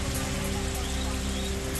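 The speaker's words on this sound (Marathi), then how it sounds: "बुलढाणा जिल्ह्यातील खामगाव तालुक्यामध्ये मुसळधार पाऊस" Heavy monsoon rain in Khamgaon taluka, Buldhana district, pours as a dense, steady hiss throughout, loud and unbroken, with no talk.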